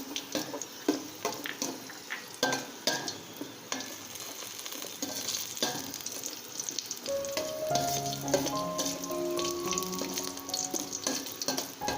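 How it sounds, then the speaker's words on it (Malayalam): Cashew nuts sautéing in a pan, a continuous close sizzle and crackle with frequent stirring clicks, joined midway by ringing, tonal kitchen clatter. "ഇതിലേക്ക് അണ്ടിപ്പരിപ്പ് ചേർത്ത് വഴറ്റാം."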